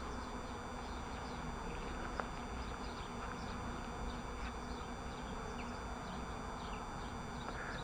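Honeybees hum around a newly installed first beehive in a garden at Vigneux, a steady, even drone of many wings close by with faint intermittent buzzes passing near, and no talk.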